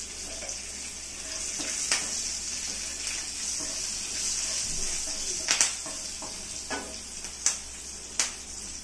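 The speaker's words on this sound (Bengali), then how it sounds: "ওই তেলেই আমি একটু সাদা জিরে ফোড়ন দিচ্ছি সামান্য" Cumin seeds and chopped green chili sizzling in hot oil for eggplant curry, a steady bright crackling hiss with a few sharp pops and spatters close by.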